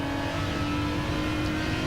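A race car engine drones steadily from inside the cockpit during a Gran Turismo 7 replay, a continuous mid-level hum with no talk.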